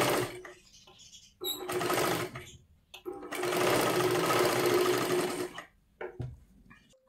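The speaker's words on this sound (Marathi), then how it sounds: "आता वरच्या बाजूला आपल्याला शिलाई करत घ्यायचं आहे" A sewing machine runs close by stitching a size 36 princess-cut blouse, a couple of short whirring bursts followed by a longer steady run of stitching, with someone talking between them.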